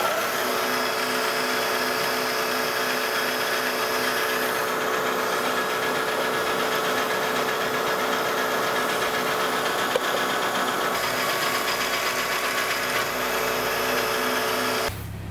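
A machine drills a hole for an alignment pin in metal, for a metal lathe carriage stop, with a steady whining hum and grinding tones that hold evenly, then cut off abruptly at the end.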